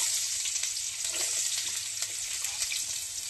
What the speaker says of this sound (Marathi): लगेच तेल गरम झालं की लगेच आपली फोडणी द्यायची